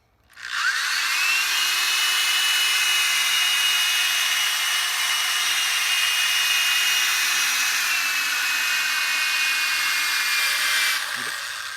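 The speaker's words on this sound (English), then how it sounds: "You don't want to go too high on your drill either, about half speed." A power drill at about half speed polishes a wet plastic headlight, whining at a steady pitch for about ten seconds, loud and close, spinning up at the start and winding down at the end.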